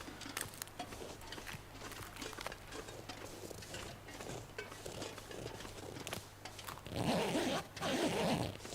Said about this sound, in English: I'll check the rucksack again in case the note's spawned in there.